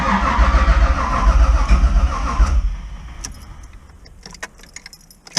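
Engine cranking and catching on a turbocharged LS3 V8 swapped into a Pontiac Fiero, a loud rough churning that cuts off after a few seconds, followed by keys jangling close by.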